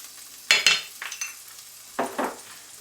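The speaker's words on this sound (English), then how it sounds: "fry until the onions are soft" A small chopped onion hits melted butter and olive oil in a pan, giving several sharp bursts of sizzling and stirring between quieter stretches of low frying.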